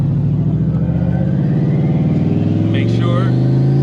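A Ford Mustang engine pulls at part throttle, its deep droning rumble holding steady and then swelling and climbing in pitch. The sound is loud and close, with no other sounds over it.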